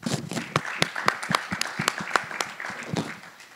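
A church congregation applauds during the offering, with irregular hand claps from a small group, nearby and moderately loud, fading slightly toward the end.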